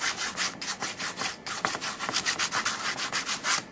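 Light rhythmic sanding on a miniature wooden chair, quick scratchy back-and-forth strokes repeating steadily and close by, with a brief pause midway.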